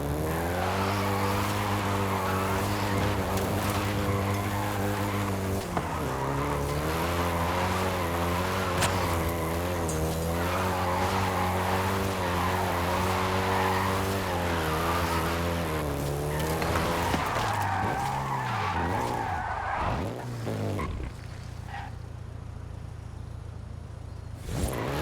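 Volkswagen Golf GTI driving in the video game Forza Horizon 5, a steady engine drone holding pitch with shifting harmonics, then dropping and falling away near the end.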